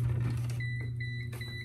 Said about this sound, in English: Not sure exactly what that beep means